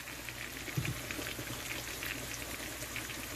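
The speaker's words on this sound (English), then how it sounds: "زي ما انتم شايفين عم بقلي ريش البصل، حطيت ملح عشان بسرعة ينقلى" Onion slices sizzling with salt in olive oil for a Palestinian musakhan with mushrooms, a steady soft crackling fry with scattered pops, fairly quiet and with no talking.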